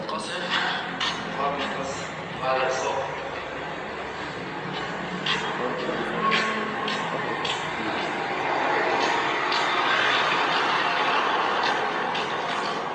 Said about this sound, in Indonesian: Terdengar kan suaranya juga suara-suara pesawat ya. Suara-suara pesawat, suara gempuran.